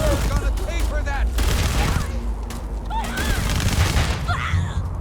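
Rapid bursts of sci-fi gunfire crack and boom in a Starfield firefight, several volleys in quick succession with in-game voices speaking between and over the shots.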